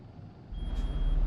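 A truck reverses in a German truck-driving game, its backup alarm sounding a thin steady tone over a deep rising engine rumble that grows louder as it starts moving.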